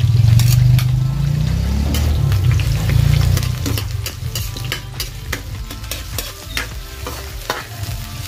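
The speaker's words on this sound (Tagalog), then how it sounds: "igigisa muna natin ang bawang" Garlic and onion sauté in a pan, loud close sizzling with scraping stirring strokes, heavy at first and then settling into lighter frying crackle.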